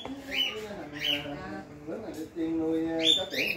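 A small caged pet bird resembling a budgerigar chirps and squawks in short repeated calls at a mini garden home in Ben Tre, with people talking nearby.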